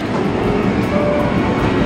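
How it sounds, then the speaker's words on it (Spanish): An arcade train-driving video game in a Japanese shopping mall gives off a dense, steady rumble of rolling train noise at a loud level throughout, with a faint tonal whine. "Por si querés manejar un tren."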